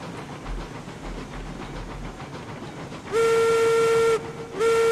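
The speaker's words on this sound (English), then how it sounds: "Give a little hoot on the whistle there." Steam locomotive whistle in the RailRoads Online railway game, sounding two loud steady hoots, a long one and then a shorter one after a brief gap, over a rumbling running train.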